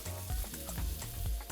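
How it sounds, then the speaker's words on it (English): Meat searing and browning in a hot pan, a continuous faint sizzle with soft periodic thumps and pops, close and without talking. "The hardest thing about cooking meat is not touching it while it's doing its thing."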